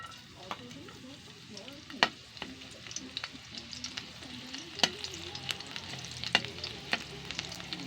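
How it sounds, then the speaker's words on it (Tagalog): Garlic sizzles and fries in hot oil in a pan, a steady crackle broken by sharp scrapes and clicks of stirring, close and fairly loud with no talking. "Ngayon, ilalagay ko na yung bawang. Magigisa na tayo."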